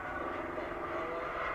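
A small E-Flite UMX Pitts S-1S RC biplane flies overhead, a steady buzzing electric motor drone at moderate distance, continuous and unbroken.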